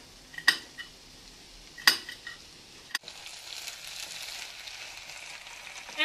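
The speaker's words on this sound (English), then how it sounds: "So here we have our onions, and we're throwing it in there nicely." Chopped onions are tossed into a pan of sautéing peppers, with a few sharp clinks of utensil on pan followed by a rising, steady sizzle of frying vegetables, no voices present.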